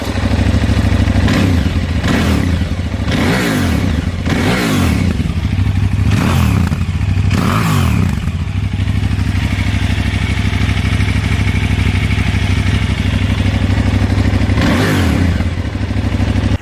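A KTM 990 motorcycle's V-twin engine idles with a loud, steady exhaust rumble, punctuated by several sharp throttle blips and revs, heard up close.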